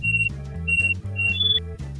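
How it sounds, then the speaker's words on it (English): Electronic communicator devices beep in a repeating pattern, steady synthetic tones pulsing in quick succession with a brief higher chirp, clear and alone. "Each and every single one of your communicators starts beeping."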